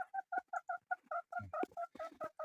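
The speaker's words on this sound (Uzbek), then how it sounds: "Kulviyando tovuqimiz tuxumlashga tayyorgarlik ko'ryapti." A Kulviyando breed hen clucks in a steady run of about fifteen short, evenly spaced, close calls, with a few rustling sounds underneath near the middle.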